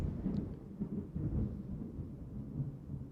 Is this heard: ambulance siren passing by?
no